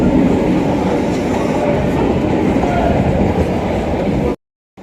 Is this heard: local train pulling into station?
yes